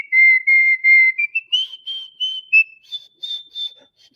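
A person whistles the tune Dixie, a clear solo melody of sustained and then shorter, stepping notes, heard close and alone.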